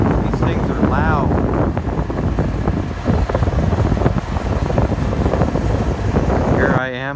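Two Union Pacific EMD diesel locomotives idle at the Worthington, Minnesota station, a constant low rumbling drone with wind buffeting the microphone, while someone talks over it throughout.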